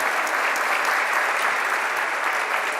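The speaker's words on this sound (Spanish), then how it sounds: "para quien pido un aplauso" Dense, loud applause from an audience honoring a deputy at a labor-law event in Mexico, a continuous wash of clapping with no pauses.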